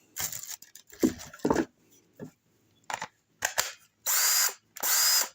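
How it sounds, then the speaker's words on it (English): A DeWalt cordless power drill whirs in several short bursts, the last two longer and louder, with brief gaps of quiet between them. "But if you go to the drill,"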